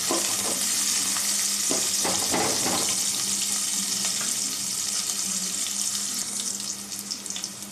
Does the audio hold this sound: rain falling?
no